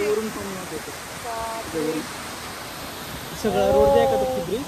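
Rushing water at Terna dam in Dhoki, Dharashiv, a broad, steady roar of heavy flow that fills the whole clip. Excited voices speak over it near the start and again toward the end.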